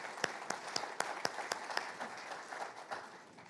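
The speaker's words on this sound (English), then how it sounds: "Let's give her a round of applause for being here tonight." Scattered clapping at a city council work session welcomes Miss Cabarrus County, a modest room-wide round of applause with distinct individual claps that thins out toward the end.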